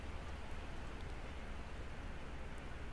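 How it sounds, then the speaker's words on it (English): Steady rain falls in the zombie survival game Project Zomboid, a constant even hiss of dense rainfall with no pauses and no voices. "Why is it always raining?"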